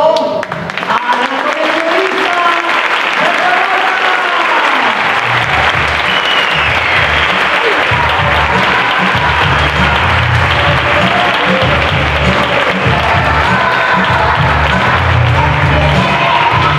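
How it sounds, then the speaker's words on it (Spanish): Audience at a school musical bursts into loud, sustained applause, a dense wash of clapping with music or a sung melody fading out at the start, then crowd noise and clapping alone. "Reciban con un aplauso, un gigante aplauso."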